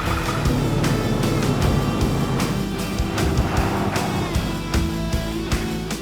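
A 1999–2003 Ford F-250 with a 7.3-litre engine and a newly installed PSC cylinder assist steering kit drives on a test run, its engine and road noise a steady, loud, close roar with brief sharper bursts and no talk.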